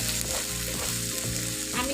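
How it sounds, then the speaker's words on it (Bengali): Chopped onions and green chilies frying in hot oil for an egg curry, a dense continuous sizzle with a rhythmic scraping of stirring every half second, close and steady. "তো এখানে তেল দিয়ে দিয়েছি পেঁয়াজ, কাঁচামরিচ। তো এটা প্রথমে আমি ভালোভাবে একটু ভেজে নেব বন্ধুরা।"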